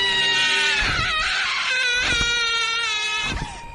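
An aswang creature in a Filipino manananggal animation lets out a fierce, drawn-out shriek, a harsh, high, wavering screech with choked breaks, loud and close, fading slightly at the end.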